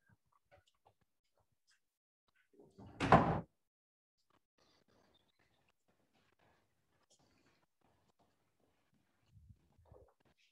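A door opens into a school basement area in a quiet building. There is one brief, fairly loud knock or bump, then near silence with a few faint small noises.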